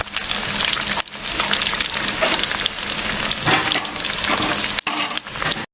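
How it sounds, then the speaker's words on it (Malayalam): Chicken pieces deep-frying in hot oil for chicken kondattam, a loud, dense, continuous crackling sizzle with bubbling and brief scraping stir sounds, interrupted by short gaps near the start and end. "ചിക്കൻ ഫുള്ളായിട്ട് ഫ്രൈ ചെയ്ത് കഴിഞ്ഞിട്ടുണ്ട്."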